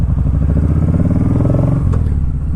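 A Kawasaki Vulcan Vaquero motorcycle engine runs steadily and loudly through a test drive, a constant low throbbing drone with a brief clattering shift in tone near the end, heard with no talking.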